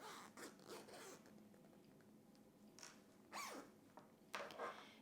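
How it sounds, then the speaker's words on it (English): A zipper on a sewn dress is pulled closed in several short, quiet rasping strokes, close by, with soft fabric handling between the pulls. "we can go ahead and close our zipper"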